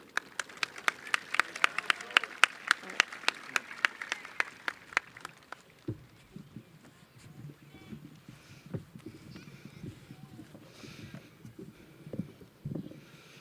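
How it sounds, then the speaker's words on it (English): At a high school graduation ceremony, sharp claps ring out in a quick, regular rhythm for several seconds, then fade as people talk over a quieter room. "Big round of applause for our officers for getting us kicked off for this evening"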